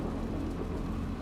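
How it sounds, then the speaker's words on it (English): Steady, dense rain with a low rumble of thunder underneath, a loud continuous wash of sound with no voices over it. "And the rain and snow."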